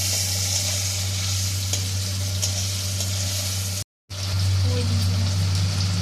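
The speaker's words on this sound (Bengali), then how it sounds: "তারপর আমি নাড়াচাড়া করে নিচ্ছি টমেটোটা দিয়ে।" Tomatoes go into onions already fried in oil in a kadai and are stirred, giving a steady loud sizzle with scraping. There is a brief dropout to silence partway through, then the frying resumes.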